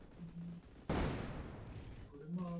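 A sudden loud burst of gunfire in the Roblox shooter Energy Assault erupts after a brief quiet tone, its blast decaying with a rattling tail, then faint tonal game sounds return.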